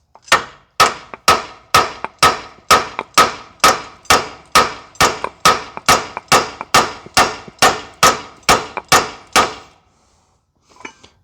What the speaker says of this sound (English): use an air hammer or a standard hammer to get it out